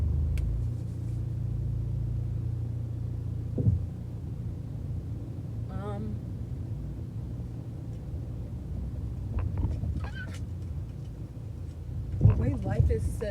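A car drives slowly through a residential neighborhood, its engine a low, steady rumble heard from inside the cabin, with brief faint voices and small clicks near the end.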